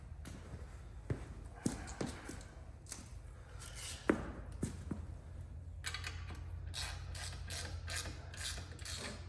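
A ratchet tightens bolts on an HMF full exhaust being fitted to a 2009 Yamaha Raptor 700R Blackout Edition, sounding as faint clicking bursts and scattered metallic taps in a quiet space.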